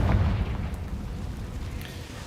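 A Confringo spell explosion in a video game, a low, rumbling boom at moderate level that rolls on for about two seconds with a faint crackling tail.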